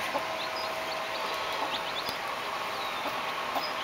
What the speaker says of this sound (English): We have the little chickens